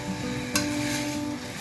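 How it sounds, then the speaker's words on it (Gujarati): Tomato and onion sautéing in a pan for vegetable rice, a steady close sizzle with a brief scrape of stirring partway through. "ટમેટું અને ઓનિયન થોડું થોડું સંતળાય છે"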